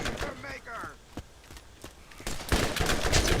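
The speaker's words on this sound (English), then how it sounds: "Hearing gunshots in the distance kind of throws me off, harshes my buzz" Gunfire in the Borderlands video game crackles as several sharp distant shots scattered through the clip, building to a denser burst near the end, with faint background game sounds.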